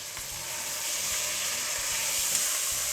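A beef fillet sizzling in a pan as it cooks, a close, steady hissing fry with faint low crackle, brief and uninterrupted, with no voices.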